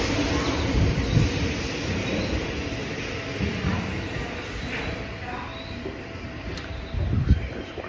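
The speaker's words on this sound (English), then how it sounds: "So I'm on the platform, waiting for a train." Rumbling station ambience on a Tokyo railway platform as a train draws near, a steady low roar throughout with heavier swells near the start and end, plus faint high tones and background voices.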